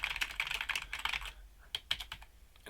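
Computer keyboard keys are pressed in a fast run of close, crisp typing clicks, then a pause and a few scattered single keystrokes.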